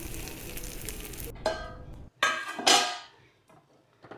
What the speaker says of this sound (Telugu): 2 ఎగ్స్తో మంచిగా ఆమ్లెట్ వేసుకుంటున్నాను.